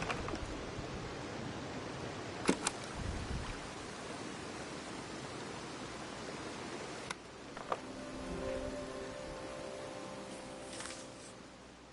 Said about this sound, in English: And then I'm going to take audio of the waterfall.